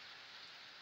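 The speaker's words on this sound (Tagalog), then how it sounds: "So lumalakas ang ulan. Malakas ang ulan." Heavy rain pouring near a cemetery and crematorium, a dense steady hiss of drops on surfaces, faint and continuous in a very short stretch without talk.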